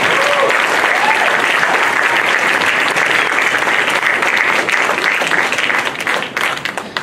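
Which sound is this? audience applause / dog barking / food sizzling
audience applause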